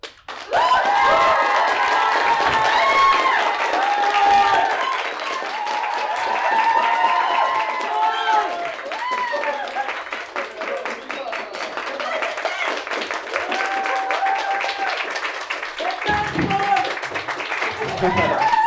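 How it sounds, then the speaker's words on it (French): Audience applause welcoming a performer named Paul onto a stage, clapping and cheering from a crowd, with voices shouting over it and energy dipping and rising across the stretch. "S'il vous plaît, un tonnerre d'applaudissements pour Paul."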